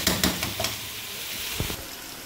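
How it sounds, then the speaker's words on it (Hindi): Mutton fries with ginger garlic paste in a karahi, a soft close sizzle punctuated by a few quick scrapes and knocks of a spoon stirring the meat. "ये मैंने गोश्त को 2-3 मिनट तक फ्राई कर लिया, ये साथ में अदरक लहसुन का पेस्ट डाल दिया"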